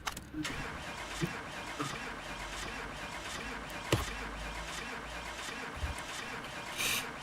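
A car engine cranks and fires up in the driving game Car Mechanic Simulator 2018, a brief starter whir then a low steady idle, quiet, with a few clicks and mechanical knocks around it.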